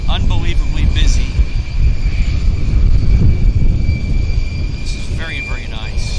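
Airliner rolling for departure on runway 26 left at Vancouver International Airport, a steady loud roar and rumble of jet engines throughout, with someone talking over it.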